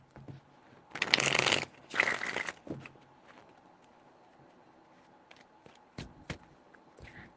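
Tarot cards shuffled by hand in two quick riffling bursts near the mic, followed by quiet taps and soft card handling.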